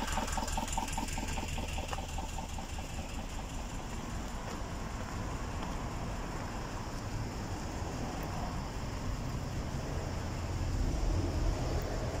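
Engine running steadily alongside a railway near the A449, a continuous loud rumbling drone with a fast rhythmic chug, no talk over it.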